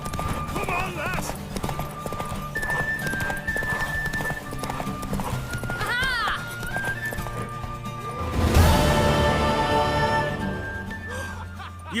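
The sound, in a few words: horse galloping in The Witcher video game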